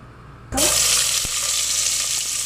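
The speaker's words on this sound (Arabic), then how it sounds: "خلي شوية عشان أحمصها مع البصل، بس حاجة بسيطة، وأحركهم مظبوط مع بعض" Chopped onions hit hot oil in a pan for chicken biryani and burst into a loud, steady sizzle that holds without a break, with a light stir scraping across the pan partway through.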